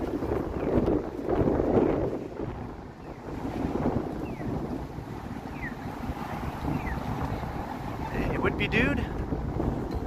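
Strong wind buffets the microphone at Yonge and Bloor in downtown Toronto on a cold evening, loud rumbling gusts that rise and fall throughout, with someone briefly speaking and faint traffic behind.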